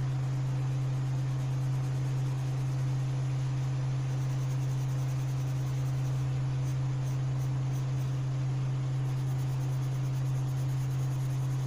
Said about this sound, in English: I forgot to shut my door and my washing machine is yeah,